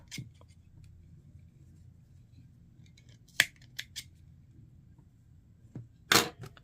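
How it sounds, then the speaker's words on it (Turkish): Scissors snip away excess yarn from a crocheted amigurumi wreath, a few sharp, separate cuts spaced over a quiet background. "Şimdi artık fazlalıkları kesebiliriz"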